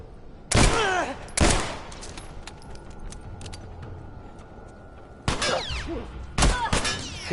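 Gunfire in The Last of Us, several loud close shots in two pairs separated by a quieter stretch of game ambience, each blast sharp and ringing.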